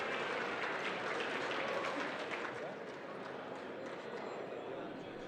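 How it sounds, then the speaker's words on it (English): Applause from the Republican side of the House chamber, a dense, steady wash of clapping from many hands, fairly distant and continuous, easing slightly toward the end. "And there it is, the clapping on the Republican side as is now official there."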